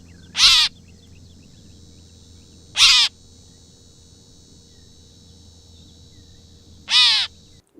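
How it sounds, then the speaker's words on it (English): A gray catbird, held in the hand at a bird banding station, gives three harsh, raspy calls spaced a few seconds apart, close and clear over a low steady hum. "This is a gray catbird."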